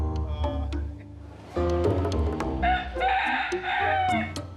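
Chickens at a lakeside eatery in Tanzania cluck and crow, several birds calling in overlapping bursts at close range, with a rooster's drawn-out crow rising clearly above the steady clucking.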